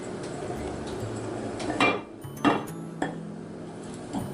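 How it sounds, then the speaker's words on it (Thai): Spoon stirring cocoa into a portion of cake batter in a bowl, with a few distinct clinks of utensil against the bowl over a low scraping, close and moderately quiet, no talking. "คนค่ะกับโกโก้ให้เข้ากัน"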